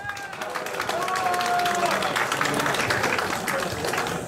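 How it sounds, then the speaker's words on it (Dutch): Applause for both fighters at a kickboxing fight event, sustained crowd clapping and noise lasting several seconds with some voices mixed in. "Mag ik een applaus voor beide vechters?"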